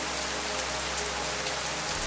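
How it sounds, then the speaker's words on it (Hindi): Steady heavy rain falling in Kaziranga National Park, a dense, even hiss with no pauses and no voices. "यहां बारिश कम दिनों में ज्यादा गिरने लगी है।"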